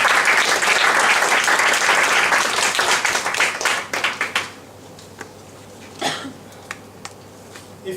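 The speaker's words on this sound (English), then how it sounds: "So I'd like to welcome him to stage with your applause." An audience applauds a speaker being welcomed to the stage: dense, loud clapping for about four seconds that thins and stops, followed by near silence with a few scattered small taps.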